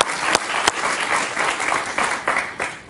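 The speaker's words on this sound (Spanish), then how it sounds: "Un aplauso para Antonio." Studio audience at a Spanish-language television interview program breaks into applause, a dense, loud, continuous wash of clapping with a couple of sharp nearby claps at the start.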